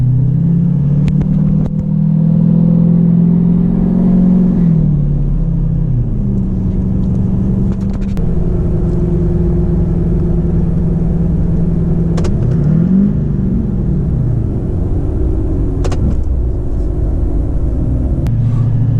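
A lifted diesel truck accelerates up to speed on an open stretch of road, its loud, steady engine drone rising and falling in pitch through gear changes, with a continuous rumble throughout.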